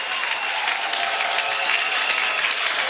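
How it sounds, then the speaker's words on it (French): Church congregation at a Sunday service applauding with joy, a dense, steady, loud wash of many hands clapping together throughout, with no single claps standing out. "Si tu crois que Jésus est la solution à tes problèmes, tu vas acclamer avec joie."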